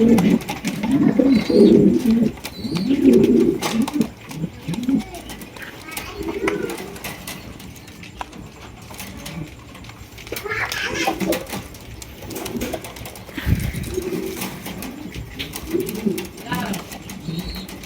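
A pair of large Mundi pigeons at a pigeon market, cooing in low repeated throaty bursts close by, with people talking over and between the calls.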